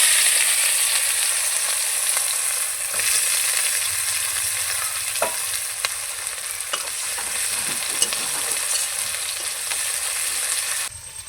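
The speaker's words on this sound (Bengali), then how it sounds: "ফোড়নের সঙ্গে পেঁয়াজটাকে দিয়ে এখন খুব একটা লাল লাল করে ভাজবো না, হালকা ভেজে নেব" Chopped onion fries lightly in oil tempered with bay leaves and dried red chillies, a steady moderate sizzle with occasional stirring scrapes and clicks, no voices.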